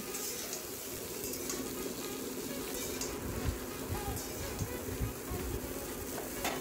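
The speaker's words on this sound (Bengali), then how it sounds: "আর সামান্য হলুদ গুঁড়ো দিয়ে আবার ভালো করে নাড়িয়ে নেব" Vegetables for shukto sizzle faintly in a pan with turmeric and salt as a spoon stirs them, giving a steady low frying hiss with occasional soft scrapes, quiet and continuous.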